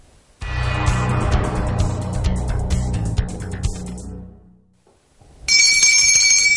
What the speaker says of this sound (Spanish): Suena la campana.